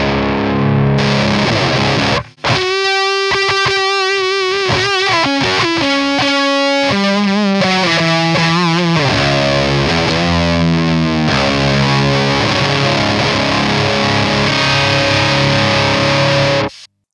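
H&K Triamp MKIII guitar amp driven by a DoD Chthonic fuzz turned up high, with a noise gate on: loud, filthy, buzzing distorted guitar chords and riffs with sharp gated cutoffs between phrases.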